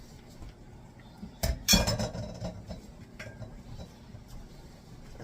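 A spoon stirs shrimp and vegetables on a metal sheet pan, giving a few sharp scraping clinks and then softer scattered taps. The sound is close and mostly quiet, with no voice over it.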